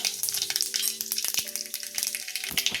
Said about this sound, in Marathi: आता मी कढईत घालते मोहरी 1 चमचा, जिरं 1 चमचा